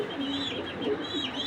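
Soft, low cooing from pigeons kept by a breeder, a steady murmuring coo that runs continuously through the short moment at moderate volume with faint chirps mixed in.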